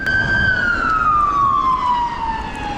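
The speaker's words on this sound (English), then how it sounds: "There's an ambulance coming up behind us." An ambulance siren approaches from behind on a suburban street while riding an e-bike, one loud, steady wailing tone that slowly falls in pitch over a constant rumble of road and wind noise.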